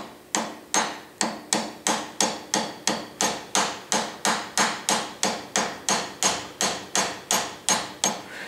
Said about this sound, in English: then I can tap it into alignment. All right, the far side is semi-loose, this one's fairly loose, and using a soft hammer